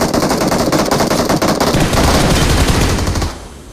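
Automatic gunfire in PUBG Mobile (BGMI), a loud, close, rapid stream of shots hammering steadily for about three seconds before cutting off abruptly.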